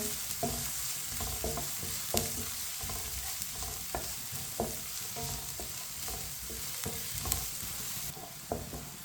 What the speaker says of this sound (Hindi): इसी तरह चम्मच चलाते हुए ब्राउन करना है प्याज को।